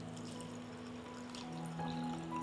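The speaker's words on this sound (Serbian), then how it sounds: "Sipat ću vodu u tegle" Water poured into glass jars, a soft continuous trickling pour that rises slightly toward the end, close and quiet with no talking.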